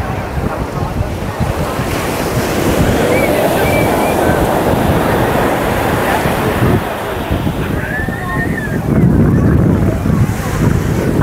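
Sea waves at Alleppey beach surge and wash in a continuous loud roar, with heavy wind buffeting the microphone throughout.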